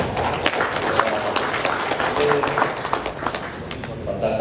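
Applause for Pak Kakandre from a crowd at an official gathering: steady, dense clapping from many hands, filling the whole moment at a fairly loud level.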